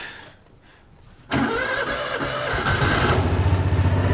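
A Kawasaki Mule utility vehicle from a golf course, its engine on choke, cranks briefly after a quiet lead-in, then catches and settles into a loud, close, steady idle.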